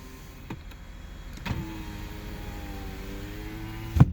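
Driver-side power window on a 2008 Lexus IS350 that stopped working after a new battery was fitted, heard as a faint motor whir inside the car with soft clicks at the start and finish of its travel.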